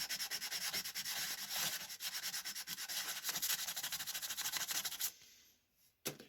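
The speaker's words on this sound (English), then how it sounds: "With that 420 sandpaper." Jewelry hand-sanded with 420-grit sandpaper: steady rapid back-and-forth scratchy rubbing strokes, close and loud, for about five seconds, then stopping, with one brief scrape near the end.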